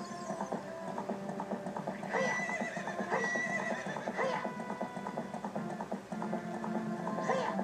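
A horse whinnies and gallops in Zelda: Ocarina of Time, loud rhythmic hoofbeats with repeated neighs against game music.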